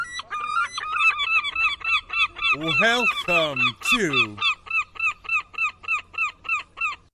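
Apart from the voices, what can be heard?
angry flock of seagulls sound effect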